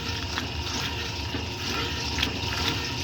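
A 1964 Speed Queen A49 washing machine agitating a load of work pants, giving a steady churning, sloshing wash of water with a low mechanical rumble underneath and no voices.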